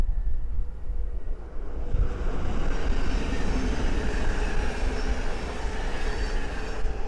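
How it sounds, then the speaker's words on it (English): A Great Northern Class 717 electric train passes on the East Coast Main Line at Great Wymondley, a broad rumbling roar rising after a quiet start and holding loud and steady. "the next train to pass by is a Great Northern 717"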